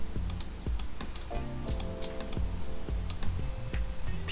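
Computer keyboard keys pressed while working in Photoshop, a quick run of crisp clicks and taps with uneven rhythm, close and clear, accompanied by a few faint tonal beeps.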